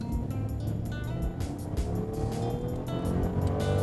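A 2012 Rolls-Royce Ghost accelerates hard, its engine note rising steadily under road and tire noise, heard from inside the cabin at moderate level.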